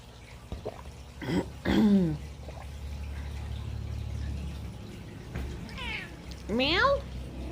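A cat meows twice, close by and a few seconds apart, each call a rising and falling whine over a low steady room hum.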